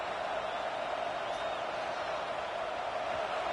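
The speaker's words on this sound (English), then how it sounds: "The roar of the crowd trying to fuel this defense to keep them pinned in their own end." A stadium crowd at a Michigan versus Oregon football game roars in a steady, dense wash of sound that holds at an even level throughout, with no clear talk over it.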